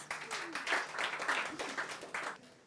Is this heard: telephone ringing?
no